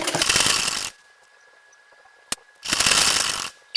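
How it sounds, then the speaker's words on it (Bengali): Two loud bursts of rapid mechanical stitching from a sewing machine sewing a burqa, split by a quiet pause with a single sharp click, then a brief knock at the end. "তারপর এই এক মাপে সেলাই করে নেব"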